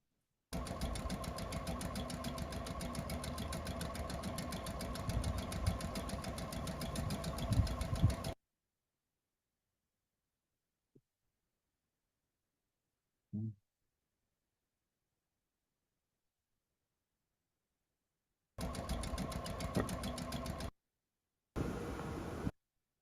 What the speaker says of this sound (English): So let's just enjoy the compressor noise.